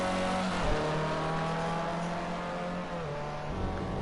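A Formula C race car laps Snetterton in Project Cars 2, its engine a loud, sustained high-revving whine with a brief dip in pitch as it shifts and carries on.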